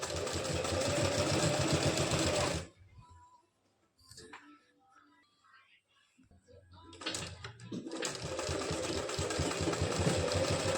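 A sewing machine runs in steady bursts while stitching palazzo pants, loud and close with a rapid needle rhythm, then stops for a few seconds of quiet handling before whirring back to full speed.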